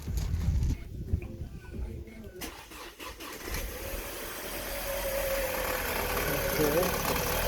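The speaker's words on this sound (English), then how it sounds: "so we'll start the car" An Audi/VW 2.0-litre engine cranks and catches, then settles into a steady idle with a misfire on its cylinders, running continuously at close range after a brief quieter start.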